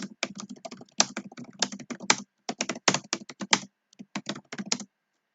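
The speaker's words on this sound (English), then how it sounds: "My apologies for the clickety-clacking of my keyboard." Rapid clicking of a computer keyboard, bursts of fast typing with brief pauses, close and moderately loud, no voices.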